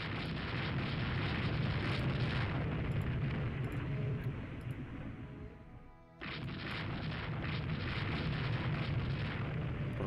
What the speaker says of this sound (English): battleships are actually getting their secondaries in on this fight